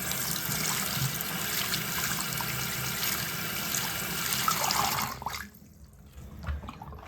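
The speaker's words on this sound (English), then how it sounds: "You could take it completely out and run some water." Water runs from a bathroom or kitchen sink faucet in a steady, close splashing rush for about five seconds, then cuts off abruptly, leaving only faint residual dripping.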